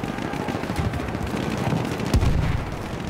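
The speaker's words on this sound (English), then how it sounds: "That's definitely someone shooting me." Battlefield 1 battle gunfire: dense, continuous rattling shots layered over a rumbling battlefield din, with one sharp, louder crack near the end.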